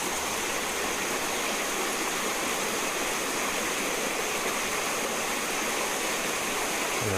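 Water flows steadily in a stream during an outdoor walk, a continuous close rushing wash that stays even throughout with no talking.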